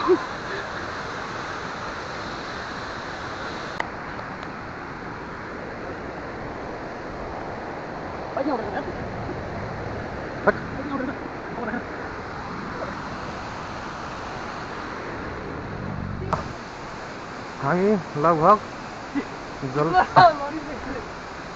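The Jalbire waterfall in Nepal keeps up a steady, broad rushing roar throughout, with people talking intermittently over it, more toward the end.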